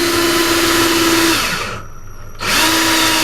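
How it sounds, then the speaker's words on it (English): A power drill spins while twisting copper wire for a handmade bracelet, a steady whining motor that drops out for a brief moment and then starts up again, loud and close. "Use your drill and wing it."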